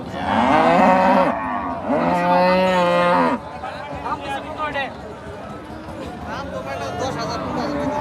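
Cows moo loudly at a busy Bangladeshi cattle market, two long harmonic calls in the first half, followed by a crowd's chatter and voices of people talking and haggling.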